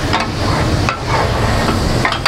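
Sauce being stirred into melting butter on a hot tawa griddle at a Gujranwala street food stall, a loud steady sizzle broken by a few sharp metallic scrapes and taps of the utensil against the griddle.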